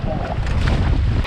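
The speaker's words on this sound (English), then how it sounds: "it was in fact still windy. Very windy." Strong wind roars across the microphone while paddling on open water in Saskatchewan, a loud, continuous buffeting rush over the brief moment.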